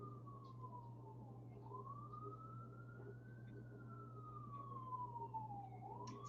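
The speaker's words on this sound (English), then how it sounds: "Sorry about the siren." A distant emergency siren wails in slow rising and falling sweeps over a steady low hum.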